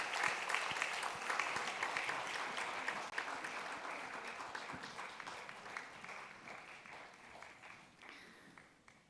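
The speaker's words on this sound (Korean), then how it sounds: "큰 박수 부탁드리겠습니다." Applause from a church congregation, a dense crowd clapping that starts strong and slowly tapers off over about nine seconds, heard alone without speech.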